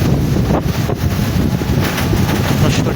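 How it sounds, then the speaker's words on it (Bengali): Strong wind under a cloudy sky, heard while cycling past trees, roars and buffets the microphone in a loud, continuous rush with no voices. "অস্থির লেভেলে বাতাস। আমাদের পাশে গাছপালা আমি বুঝতে পারছি কী পরিমাণ বাতাস হচ্ছে"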